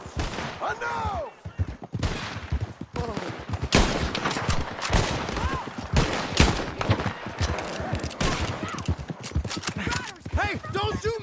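Rapid gunfire in Red Dead Redemption 2 rings out in a dense, chaotic exchange, with shots cracking nearly continuously over hoofbeats and shouting voices.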